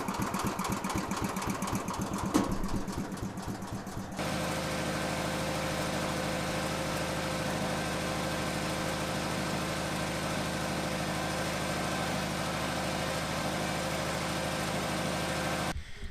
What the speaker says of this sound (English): That got to be like 600 RPM. Opposed cylinder,